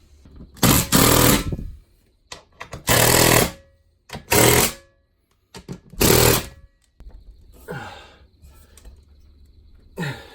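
A wrench tightens bolts on the center supports of a wall mount for a Samsung TV. Four loud, ratcheting bursts lasting about a second each are separated by pauses, then fainter scraping and creaking follow.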